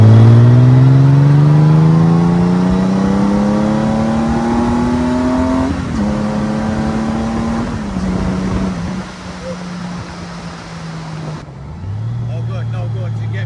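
A Honda GoldWing motorcycle engine revs up with rising pitch, eases back and settles into a lower idle, loud and close, with a brief drop near the end.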